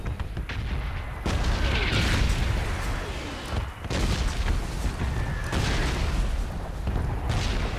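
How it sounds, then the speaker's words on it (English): Bombs going off in a video game: repeated dull booms and bursts roll through a continuous noisy battlefield din, with shots mixed in, loud and sustained with no clear gaps. "even though these bombs are going off"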